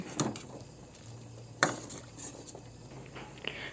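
A spoon works slowly through fish sinigang in a pot after calamansi juice goes in, giving a few soft scraping clinks against the metal over a low simmering hum.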